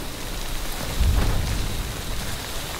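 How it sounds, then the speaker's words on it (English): Steady rain in the video game Death Stranding, a continuous wash of falling water with a brief swell and low rumble around the middle, like distant thunder, with no voices. "You wait out the rain over there."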